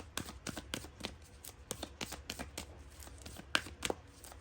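Tarot cards being shuffled in quick riffling bursts, a crisp rhythmic series of flicks and slaps heard close up and quiet, with no talking.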